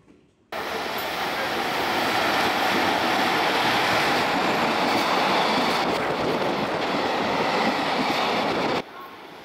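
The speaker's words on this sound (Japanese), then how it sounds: "立て続けに貨物列車が通過。" A freight train hauled by an older-livery EF210 electric locomotive rumbles past close by, a loud steady roar of wheels and wagons that starts abruptly and holds for about eight seconds before cutting off.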